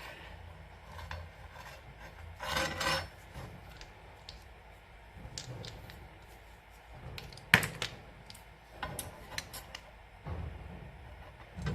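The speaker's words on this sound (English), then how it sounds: "Just when you cut them, they always sort of burr over a bit. So I always just give it a bit of a clean out." Scraping and rasping as the burred end of a freshly cut pipe is cleaned out, in short uneven strokes with brief knocks, fairly faint and close, with no talking.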